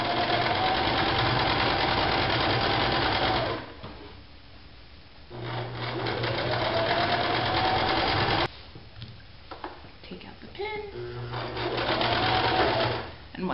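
Sewing machine stitching the long edge of an upcycled produce bag, loud steady whirring runs broken by short pauses, with a person speaking between them.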